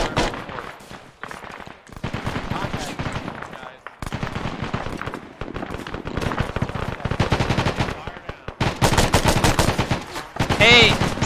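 Bursts of overhead gunfire in the military game Arma, rapid automatic volleys and single shots cracking loudly in irregular clusters, with a few brief gaps of near-silence between them.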